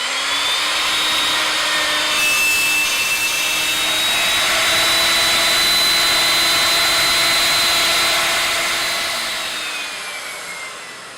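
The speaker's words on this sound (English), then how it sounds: "Make sure the jig is securely clamped to the batten on the workbench and that the router is set to cut a" Router cutting a 6mm deep rebate in a wood panel guided by a jig clamped to a batten on a workbench, a loud steady high-pitched whine that swells as it cuts and then winds down.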